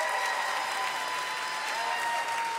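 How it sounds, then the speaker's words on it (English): A live audience at a storytelling show applauds steadily and evenly throughout, a dense wash of clapping with no voices standing out. "Clap for Steve Almond."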